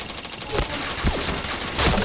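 Gunfire in a shooting video game, a dense run of quick shots and cracks layered over busy game noise, close and loud throughout the short burst.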